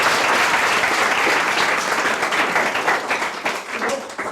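Schoolchildren clapping at a consultation event held at a United Methodist school in Ganta, a dense, sustained burst of applause that stays loud before thinning slightly toward the end.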